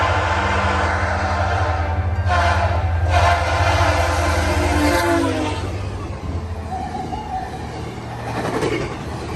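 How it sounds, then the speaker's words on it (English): A VIA Rail passenger train rushes past at speed in the fall, a loud, steady rumble and roar close by that fades after about six seconds while wheel and track noise continue; a horn is not clearly picked out. "If you go catch the via rails, they fly through here basically. And you will also get great horn action as well."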